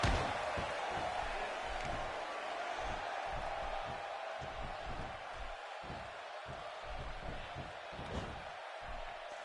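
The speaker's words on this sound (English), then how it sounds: "by the sound of this crowd, I think they're getting what they wanted" A wrestling match crowd in a PS4 video game cheers in a continuous, loud wash of noise, with repeated heavy thuds and slams pounding through it at an irregular rhythm.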